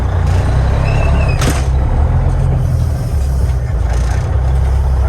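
An old Freightliner cabover truck pulls away in first gear, its loud diesel engine rumbling close and steady, with a brief hiss partway through.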